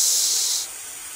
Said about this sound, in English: There's the roach spray.